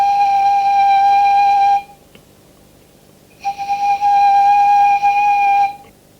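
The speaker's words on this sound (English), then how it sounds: "A small aerophone sounds like this." A small Aboriginal aerophone, a wind instrument, plays two long steady whistling tones with a short silent gap between them, clear, close and alone.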